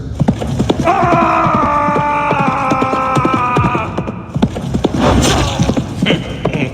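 A video-game warhorse charges in, its hooves clip-clopping rapidly and steadily, while a sustained whinny rises over the galloping, loud and close, with combat clatter near the end.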